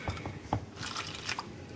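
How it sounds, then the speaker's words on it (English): Water pours and drips into a bowl of cornstarch as oobleck is mixed, giving a few close, wet splashes and drips over a soft liquid background. "Just mix it in, then pour some more water."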